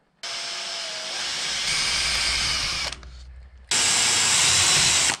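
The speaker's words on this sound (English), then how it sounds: "I'm going to try and drill 2 little holes" A small electric drill with a 2.5mm bit whirs steadily in two bursts drilling holes in a Toyota power steering pump oil seal, a high buzzing whine that stops briefly before starting again louder, close by.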